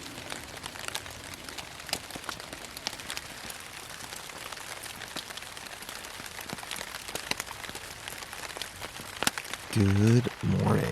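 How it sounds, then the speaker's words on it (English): Rain patters on a Dyneema backpacking tent on a cold camping trip in Red River Gorge, a steady close crackle of scattered drops throughout, with a voice beginning to talk near the end. "I love the sound of rain on Dyneema"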